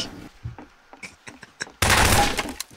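Gunfire erupts in the Garry's Mod video game as a loud, dense burst of rapid shots that cuts in suddenly after quieter scattered in-game sounds.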